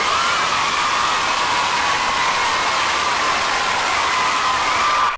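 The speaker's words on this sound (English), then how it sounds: "people in a crowd, lots and lots of screaming, and lots of cheering" A large audience crowd at a Wiggles big show, screaming and cheering in a dense, loud, continuous roar that holds steady before cutting off abruptly.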